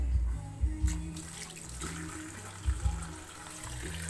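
Running tap water pours into a kitchen sink while tilapia is rinsed, a steady close splash with a few brief louder bursts as the fish is handled under the stream.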